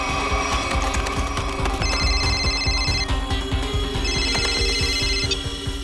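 A telephone rings in repeated electronic bursts, loud and close, with a steady mechanical rumble running underneath.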